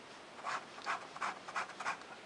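A Ranga No3 fountain pen with a hard steel nib scratches across paper in five short, faint strokes at an even pace, close up against a quiet hiss.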